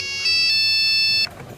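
A phone gives a bright electronic ring, a sustained tonal chime lasting about a second before stopping abruptly, heard fairly close with no talk.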